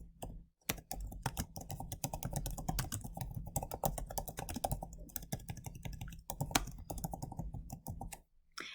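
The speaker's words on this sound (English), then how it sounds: "I'm going to type in here where it says replace STCC" Continuous typing on a computer keyboard while entering an autocorrect replacement in Word, with dense, steady key clicks close to the microphone and a short pause near the start.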